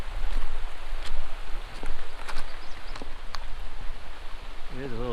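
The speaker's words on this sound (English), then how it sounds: "It is a little drizzly right now" Constant soft patter of light drizzle with scattered drops tapping nearby at a riverside camp under an awning in the northern Ontario bush; a voice starts speaking briefly near the end.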